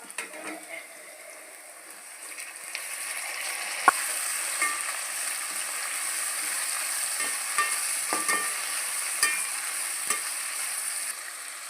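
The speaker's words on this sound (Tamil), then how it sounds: "கொஞ்ச நேரம் வதங்கணும் தக்காளி போட்டுக்கலாம்" Steady sizzling of onions and tomato frying in a pan, with occasional clinks and scrapes of stirring, continuous and fairly close throughout.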